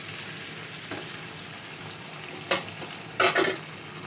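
About a kilogram of chicken frying in a hot pan, a steady sizzle broken by a few sharp scraping stirs near the end, close and alone without any talking.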